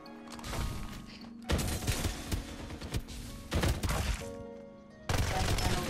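AK rifle gunfire in the Farlight 84 video game, with rapid automatic bursts and loud cracks in several separate volleys, the gaps between them filled by lower game noise.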